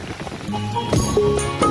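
Heavy rain and wind in a village during an approaching storm, loud dense patter of rain on surfaces with irregular gusty bursts and clattering hits close by.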